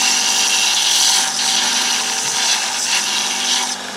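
A bench grinder hums steadily while a woodturning tool is held against the wheel on a 45-degree platform, giving a continuous high grinding hiss that wavers slightly as the tool shifts.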